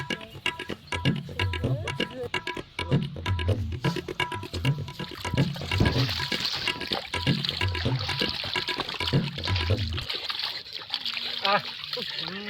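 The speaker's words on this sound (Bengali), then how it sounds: "চলো তো অভিজিৎ, দয়া হাত হাত মুখ ধুয়ে আসি" Tap water runs and splashes as hands and face are washed, in steady bursts of splattering close by, with people talking over it throughout before the flow stops near the end.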